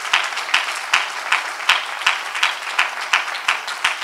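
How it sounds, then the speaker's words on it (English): Rhythmic clapping at a burial service, steady hand claps on a regular beat through the whole span, moderately loud and fairly close, with no talking over it. "Please give them a round of applause."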